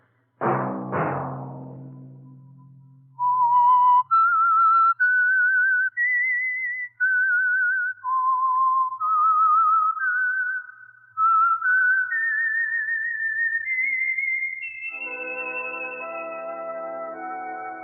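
A single whistler carries the cheerful theme tune of the 1950 radio program The Whistler in clear, sustained notes, stepping up and down in pitch, before a brief orchestral chord swells at the end.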